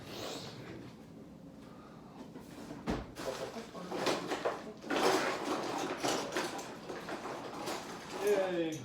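Someone rummages through a kitchen junk drawer hunting for pliers: clattering metal utensils, scraping and knocking items, with brief talk in between.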